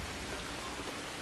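Dense, steady rain hisses evenly in the game Assassin's Creed Shadows, a faint unbroken wash with no other sounds standing out.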